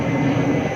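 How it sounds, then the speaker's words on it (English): Airplane flying over near an airport, a steady loud broadband roar filling the whole short moment with no talk over it. "Hear that plane? Yeah, we're right by the airport."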